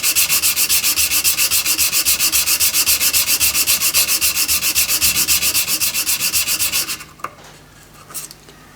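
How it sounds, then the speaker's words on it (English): Hand sanding with 240 grit sandpaper on softwood, a fast, even back-and-forth rasp repeated steadily for about seven seconds, close and loud, then it stops and a couple of faint knocks follow. "I'm just using a piece of 240 grit sandpaper"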